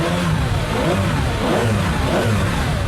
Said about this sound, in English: Because to listen to that V12 in the back